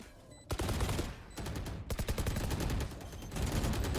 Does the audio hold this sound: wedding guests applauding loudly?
no